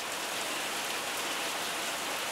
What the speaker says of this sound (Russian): Целую неделю проливные дожди.